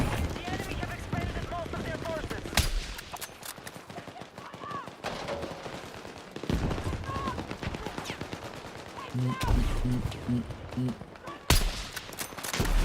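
Battlefield 6 hip fire from a secondary weapon, heard as repeated bursts of shots between quieter stretches, while someone talks over much of the gunfire.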